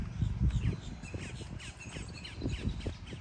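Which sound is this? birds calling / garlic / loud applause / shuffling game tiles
birds calling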